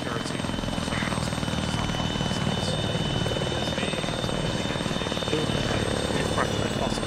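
A helicopter in Arma 3 comes in to land, its rotor churning as a steady, loud, continuous thrum with a whining engine tone, constant throughout with a faint voice in the background.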